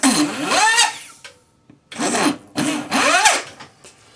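A small jeweller's drill with a 2 mm bit whines in three short bursts, each speeding up and slowing down, with brief quiet gaps between them; no speech.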